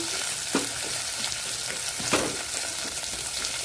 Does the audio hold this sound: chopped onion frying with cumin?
yes